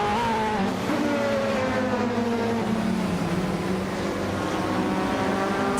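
Race car engines roar continuously in a racing video game, several overlapping whines shifting pitch as cars jostle and overtake one another, loud and close without a break.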